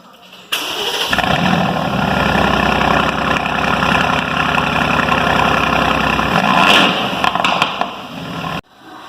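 Aston Martin V8 Vantage with quad exhaust fires up with a sharp burst, then settles into a loud, steady, throbbing V8 idle that runs for several seconds before cutting off abruptly.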